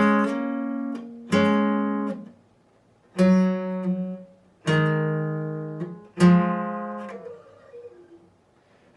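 Electric guitar playing a song intro slowly, five separate strummed chords ringing out one after another, each sustaining and fading before the next, clear and alone.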